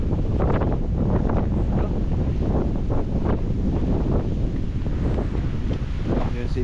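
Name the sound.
strong wind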